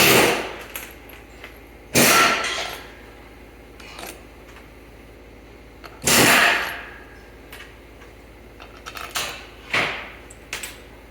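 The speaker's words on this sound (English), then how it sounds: "I'm just going to lightly run them in with my impact, lightly." An impact wrench on a Polaris Mod XLT triple-engine snowmobile build lightly runs in bolts in two short, loud buzzing bursts, separated by quieter clinks and handling noises in a workshop.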